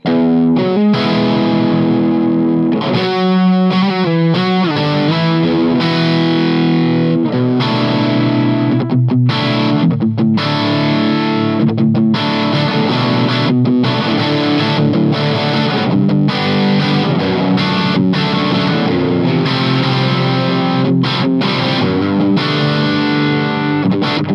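Overdriven electric guitar in humbucker mode riffing continuously through a Friedman Small Box tube amp with gain on 2, thick and gritty with warm distortion, loud and up close with no talking.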